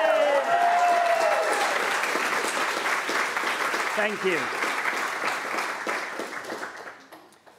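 Audience applause for the Cotyledons team at a botanical quiz final, a full crowd clapping steadily and loud, then thinning and fading out toward the end, with a host's voice speaking briefly over the start.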